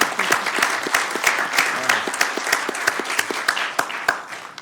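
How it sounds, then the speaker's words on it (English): Applause at a city council meeting, a smaller group clapping in an uneven rhythm with distinct individual claps standing out, close and clear. "That deserves a round of applause"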